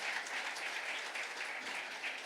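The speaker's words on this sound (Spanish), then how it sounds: "Denle un fuerte aplauso al Señor" A church congregation at a Spanish-language Bible study service applauds loudly and steadily, a dense, even wash of many hands clapping together with no voices standing out.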